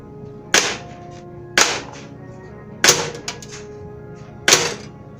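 Crosman 2240 air pistol fired with open sights out of the box, four sharp, snappy shots spaced about a second apart, each a crisp crack with a brief ringing tail against a quiet background.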